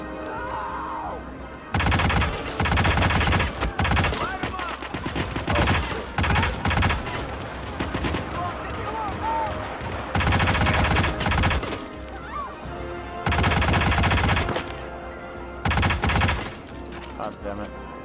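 Automatic gunfire in the Hitman video game, repeated loud bursts of rapid shots separated by quieter gaps, with a voice talking between and over the volleys.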